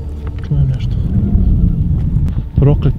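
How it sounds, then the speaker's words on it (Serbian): Wind buffets an outdoor microphone in low, rumbling gusts that swell and fade, with voices talking nearby. "Prokleti vetar"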